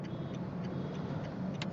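A Tata Tiago's engine rumbles low and steady close by as the car moves slowly into a service center, with a few faint clicking ticks over the hum.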